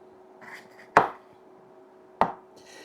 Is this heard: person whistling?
no